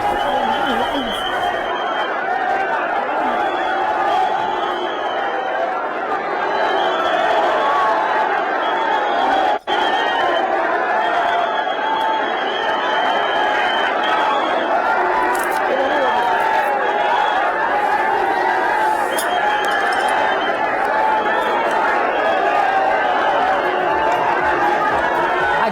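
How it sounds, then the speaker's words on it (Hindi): A large crowd gathers in Baramati at Vidya Pratishthan to pay last respects to Ajit Pawar: a dense, continuous murmur of many voices talking at once, steady and loud throughout, with one sharp brief click partway through. "उन्हें श्रद्धांजलि देने के लिए भारी भीड़ उमड़ रही है"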